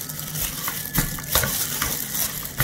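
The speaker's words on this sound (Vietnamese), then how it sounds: "Giờ em trộn mắm chi với thịt này nè." Meat being stirred and mixed with fermented fish paste, as for Vietnamese nem mắm lóc, gives soft, continuous squelching and scraping with a few sharper clicks, close up and steady, with no talk.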